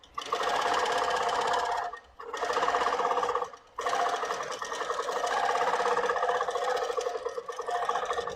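A Moxie XL embroidery machine stitching an embroidery design runs in a steady, fast, rattling whir, pausing twice briefly before resuming close and loud throughout.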